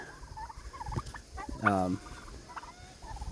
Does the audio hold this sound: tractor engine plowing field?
no